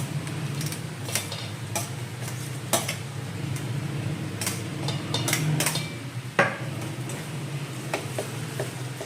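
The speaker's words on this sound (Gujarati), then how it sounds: "હવે આની અંદર જે કાંદા સુધાર્યા છે ને એ નાખી દઈએ" Chopped onions stirred in a frying pan for noodles: repeated clinks and scrapes of a utensil against the metal pan over a faint, low sizzle, close by with no talking.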